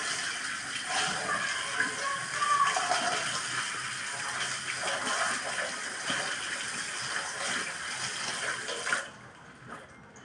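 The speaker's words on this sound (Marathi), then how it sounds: "मग स्वच्छ पाण्याने आपण धुवून घेऊ पानं आपले।" Taro leaves washed under running water in a kitchen, a steady close splashing and rushing stream that ends abruptly near the end, no voices heard.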